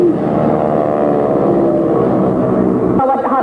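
A Harvard propeller aircraft flies past the crowd at an Indonesian Air Force anniversary ceremony, a loud, sustained droning engine roar with a shifting pitch as it passes, ending abruptly, while faint talk mixes in underneath.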